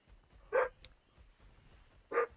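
A puppy barking indoors at neighbor dogs: two sharp, separate barks about a second and a half apart, fairly close and alone against a quiet background.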